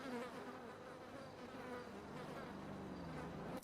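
Bees in a roleplay video game buzz continuously, a faint, close droning hum with wavering pitch and no talk over it.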